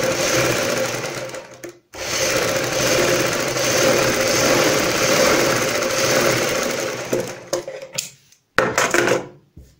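A sewing machine stitches a strip onto a kurti neckline in long continuous runs of rapid mechanical whirring, broken by short pauses and a few brief stop-start bursts near the end.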